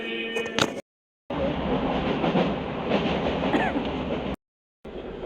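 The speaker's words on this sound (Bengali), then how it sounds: "আমরা এখন ট্রেনে বসে গেছি" A Krishnanagar local train runs with a steady, loud rumble and rattle of the carriages, broken by two brief silent gaps.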